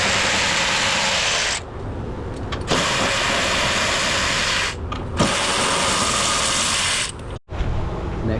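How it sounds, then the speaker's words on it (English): A ratchet or power driver works 13 mm radiator support and fan bracket bolts on a 2006-2014 Chevy Silverado, running loud and steady in three long stretches broken by short pauses. "now what you want to do is take the bolts out for the radiator support and the fan supporter"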